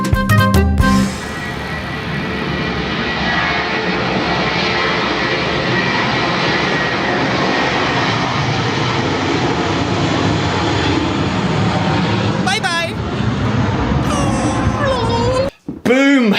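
A fixed-wing airplane at Gibraltar airport, near the rock, produces a loud, steady engine roar that runs through almost the whole stretch, with a brief pause near the end and a few faint voices.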